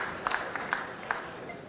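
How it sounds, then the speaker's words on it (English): Pool hall audience applauding a carom shot in a professional match, a light scattering of claps with a few sharper individual hand claps, moderate and brief. "Everyone's applauding because they saw the..."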